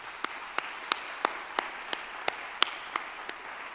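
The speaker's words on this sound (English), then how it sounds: "Please join me in thanking them through a round of applause as well" Sparse, quiet claps at a university fall address thanking student government leaders, about a dozen sharp hand strikes spaced evenly over a soft background hiss, sounding like only a few people clapping.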